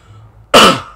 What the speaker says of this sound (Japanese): めっちゃ咳出た。